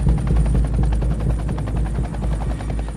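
A rescue helicopter's rotor thumps loud and close in a steady rapid beat over a narrow ravine, its engine roar filling the clip without pause.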